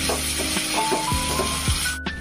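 Spice paste frying in a pan for a vegetarian potato and cauliflower curry sizzles steadily after two tablespoons of water go in, a loud continuous hiss with a few soft clinks and scrapes, dropping away abruptly near the end.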